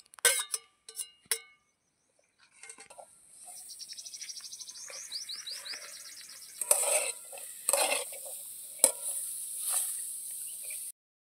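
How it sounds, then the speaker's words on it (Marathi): Onion fries in a kadai with a light crackling sizzle and several sharp scraping stirs, close up and fairly quiet, with short gaps between bursts and no talk. "तर आता कढईमध्येच आपल्याला तळायला टाकायचं आहे।"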